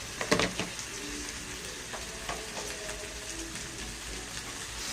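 Pork bones stir-fried in a hot pan, giving a steady close sizzle with a few clattering knocks near the start, then an even frying hiss.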